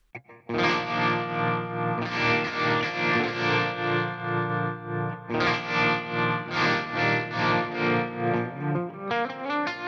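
Distorted electric guitar chords through an Axe-Fx III tremolo effect pulse with a steady, rhythmic wobble in volume, played loud and alone.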